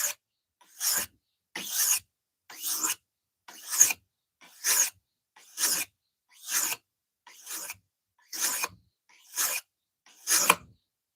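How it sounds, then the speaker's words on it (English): A knife drawn across a 400 grit sharpening stone makes a dozen evenly spaced raspy, hissing strokes about one second apart, quiet and close with short silences between passes. "You can hear that daggone 400 grit singing."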